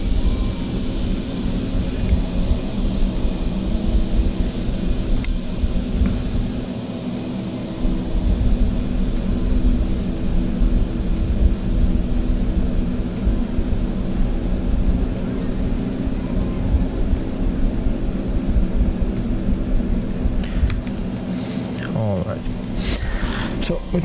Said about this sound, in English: There you can see, I think it's an Airbus taking off